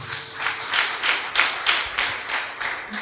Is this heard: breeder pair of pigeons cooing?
no